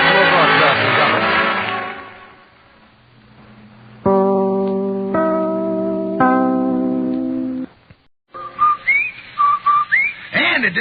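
The Rinso White advertising whistle plays loud and clear as a series of sustained two-tone whistled notes on an Amos 'n' Andy radio broadcast. An NBC announcer's voice comes before it and sliding whistled calls follow.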